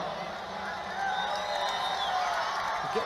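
A football stadium crowd at the Super Bowl in New Orleans cheers in a broad, steady roar that swells slightly midway, with distant whoops and clapping and a commentator's voice over it.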